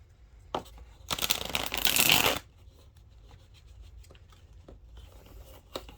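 Tarot cards are shuffled in a couple of quick riffling bursts, close and crisp, with quiet gaps and faint handling sounds around them.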